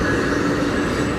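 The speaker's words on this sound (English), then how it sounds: "It's an Amtrak headed to Eastern Washington." An Amtrak passenger train passing on its way to Eastern Washington, a steady broad rumble and roar of wheels on rails heard from some distance outdoors, continuous and unbroken with no talking.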